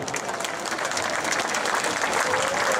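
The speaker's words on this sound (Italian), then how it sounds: "Soprano Immacolata Riccardi, con il vostro applauso." Audience applause for a soprano at an outdoor band concert during a patronal festival, a continuous bed of clapping heard from some distance, steady and fairly soft.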